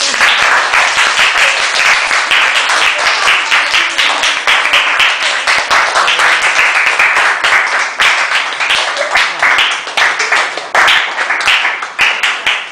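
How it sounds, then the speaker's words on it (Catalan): Dense, steady applause from a classroom audience after a student presentation on the early modern era, many hands clapping loudly and continuously with no voices on top. "Aplaudiment."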